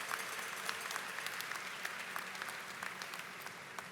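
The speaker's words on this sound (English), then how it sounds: "If I can get another round of applause for the veterans that are in the audience." A crowd applauds veterans seated in the audience at the USS Pierre (LCS 38) ship christening at Austal USA, with dense, sustained clapping that stays even and moderately distant throughout.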